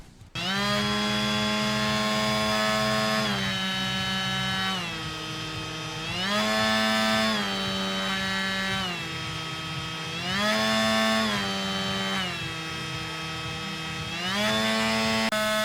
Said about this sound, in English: it is time to let you hear what this thing actually sounds like. So we're going to start it out on high, medium, low.